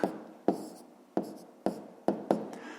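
Numbers written by hand during a fifth-grade maths lesson: about six short, scratchy strokes at uneven intervals, each a sharp tap that fades quickly, close and fairly quiet with no voice.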